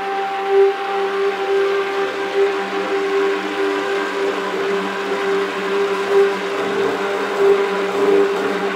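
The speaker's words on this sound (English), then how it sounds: "now I'm going to start the immersion blender again and get it a little bit further down the trace road" Immersion blender whirring steadily as it mixes soap batter toward medium trace, a continuous motor hum with a strong steady tone, close and moderately loud, with no voices.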